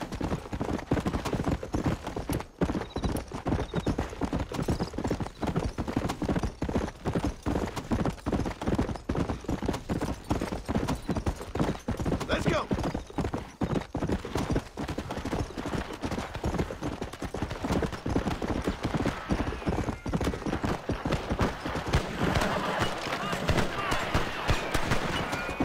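Horse hooves clip-clop in a steady, rapid galloping rhythm while riding in the Red Dead Redemption video game, loud and continuous for the whole stretch, with faint gunfire-like pops mixed in.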